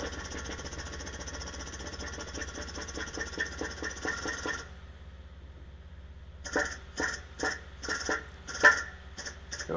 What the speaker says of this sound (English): we press that right on all the way